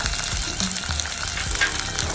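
Whole black pepper, a couple of ginger pieces, a small cinnamon stick and cloves fry in a pan. A moderate sizzle runs throughout, with soft clicks and scrapes of stirring and no voices.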